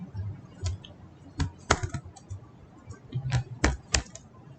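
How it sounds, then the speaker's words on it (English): A computer keyboard is typed on in short, uneven bursts of sharp key clicks and clacks, close and fairly quiet, with small gaps between keystrokes. "let's go here and just type localhost"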